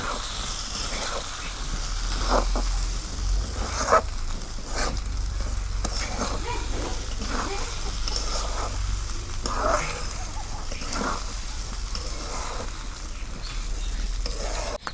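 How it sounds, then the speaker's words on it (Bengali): Steady sizzling and crackling of rice grains frying in hot oil for chicken biryani on a clay stove, with occasional stirring scrapes, continuous and close throughout. "তেল দিয়ে আমি ভালো করে ভাইজা নিতেছি"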